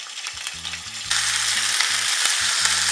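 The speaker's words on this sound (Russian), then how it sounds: "Курицу мы обжариваем в течение 40 секунд с каждой стороны." Chicken pieces hitting a hot pan of sunflower oil over high heat and bursting into loud, steady sizzling, with low thumps at the start as the meat is laid in.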